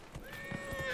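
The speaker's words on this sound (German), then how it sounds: "Reiten einfach weiter. Gib Gas, Pferdl." Horse hooves clip-clop quickly in Dragon Age Inquisition, a short burst of rhythmic thuds with a faint whinny and a steady tonal game hum beneath, fairly quiet.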